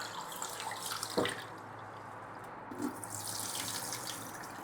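Raw rice being rinsed with water in a kitchen, with close, gentle swishing and running-water sounds, a brief splash, and a soft steady flow throughout at low volume, without talk.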